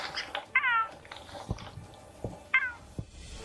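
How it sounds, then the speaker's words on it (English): A cougar makes soft, kitten-like murmuring mews, with two short rising-falling calls among quiet clicks and small thumps, close and fairly faint. "Well, the amusing thing is that they murmur like a cute kitten."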